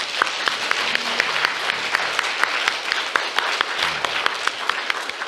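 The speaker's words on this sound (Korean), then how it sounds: "우리 하나님께 영광의 박수 드리는 거예요" A church congregation at a seminar service claps together in praise, steady applause with sharp individual claps standing out for several seconds, faint voices underneath.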